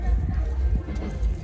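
Horses' hooves clip-clop at a dancing-horse competition as the horses are led to a trailer, low muffled thuds under a loud hum and nearby voices.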